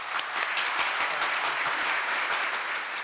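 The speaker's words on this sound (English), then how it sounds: "A big round of applause for them as well." Dense, sustained applause from an audience at a Filmfare awards event fills the hall, many hands clapping evenly and fairly loudly for the full three seconds with no voices over it.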